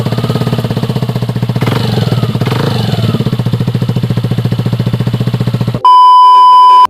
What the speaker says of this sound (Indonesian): Jadi untuk suara knalpotnya kayak gini teman-teman.